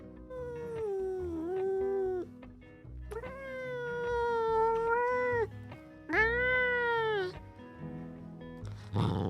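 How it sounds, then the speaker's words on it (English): A pet cat howls and meows in three long, loud, drawn-out wails separated by short pauses, close to the listener, with no talking over them. "Okay, she sounds like an abused cat,"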